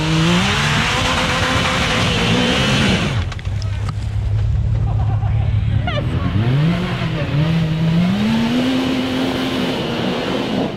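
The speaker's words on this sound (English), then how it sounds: "He's just got to clutch drop that shifter in a second and go." Side-by-side UTVs on a snowy winter trail, engines revving loudly with rising and falling pitch, a hard clutch-drop launch that surges mid-clip, then climbing revs as the machine pulls away; people talk over the engines.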